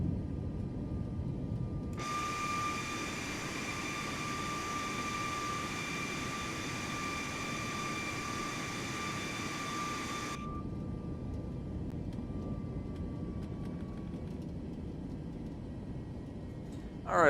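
An airplane in Microsoft Flight Simulator 2024 climbs after takeoff, a steady engine drone with a whining tonal layer that cuts in, holds for several seconds, then drops away, with no talk.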